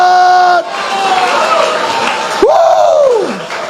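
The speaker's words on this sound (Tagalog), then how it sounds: "Malakas sa palakpakan. May kasamang hiyawan sa Diyos na mabuti sa lahat." A church congregation cheers in praise, a crowd roar with loud rising and falling whoops and shouts standing out over the general noise.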